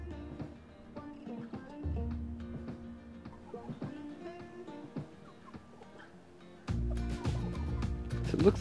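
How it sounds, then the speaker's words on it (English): Broody backyard hen clucking in low repeated bursts, close and fairly quiet, with a few louder throaty calls near the end. "So it looks like we have a broody hen."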